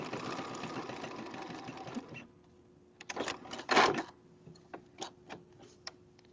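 A home sewing machine runs in a steady continuous whir while stitching pajama pieces, then stops and leaves scattered clicks and taps of handling at a low level.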